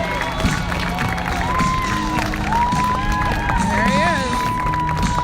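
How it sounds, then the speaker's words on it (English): Crowd at a West Point A Day parade cheering and calling out to parachute jumpers coming in under canopy, a steady mass of voices with rising whoops and shouts, fairly close and continuous throughout. "the jumpers under canopy can definitely hear encouragement from the crowd."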